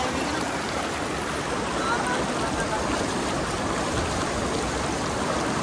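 A fast-flowing mountain stream near McLeodganj rushes with a loud, constant broadband roar from close by, and faint voices may sit beneath the water noise.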